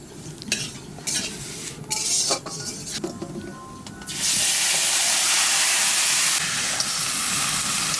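Marinated duck meat hits hot oil in a wok with cumin, bay leaf and dried chillies, metal spatula scrapes and clanks giving way to a loud, sustained sizzle up close.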